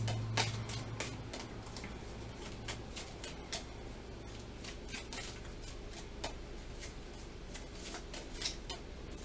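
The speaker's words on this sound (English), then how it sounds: "No, I'm going to keep shuffling." Tarot cards being shuffled by hand during a reading, giving a steady run of soft riffling ticks and flicks close up and quiet, with no talk over them.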